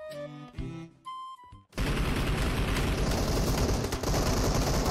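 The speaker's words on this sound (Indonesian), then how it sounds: "Ramainya tembak." Heavy gunfire in a mobile shooter game, opening with scattered game sounds and short shots before erupting into a dense, loud, continuous barrage of overlapping automatic fire.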